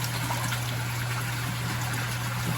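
Water trickles steadily from the overflow of a koi pond in snowy winter conditions, a continuous close, even wash with no pauses, joined by a steady low hum.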